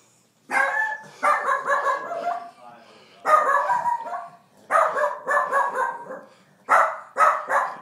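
A dog barks in a house, loud and close, in repeated bursts of several yapping barks separated by short pauses, with some higher yips and whines mixed in.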